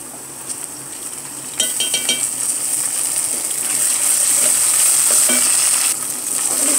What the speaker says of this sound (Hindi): प्याज तो हम अच्छे से कर लेंगे फ्राई हल्का सा ब्राउन करना है